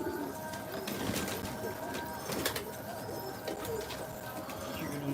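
Pigeons gather on a rooftop, around two hundred birds, and soft cooing and fluttering blend into a steady outdoor murmur, faint and constant, with a few sharper flaps and clicks now and then.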